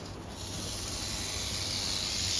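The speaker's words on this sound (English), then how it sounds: "You guys can hear her rattling. That means she is not happy." A large venomous snake rattles steadily while being handled, a dense continuous hissing buzz that grows slightly louder, heard alone without talk.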